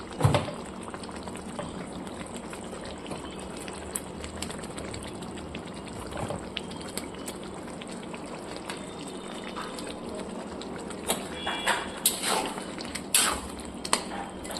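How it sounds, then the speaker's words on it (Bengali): Bhola fish curry gravy simmering in a pan, a steady bubbling hiss with occasional louder pops and splutters near the end, close and fairly quiet throughout. "ফাইনালি ঝোলটা আমার ফুটে গেছে ঝালটা"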